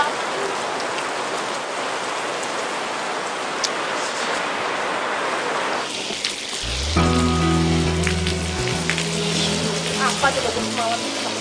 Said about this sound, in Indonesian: Semoga hujannya nggak lama.